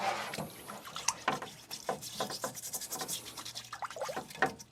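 Water splashing and dripping over a sink while an Aogami 2 Hatsukokoro Kurogane bunka knife is thinned on a Shapton Glass 220 whetstone, with close, irregular wet scrubbing and splatter running continuously.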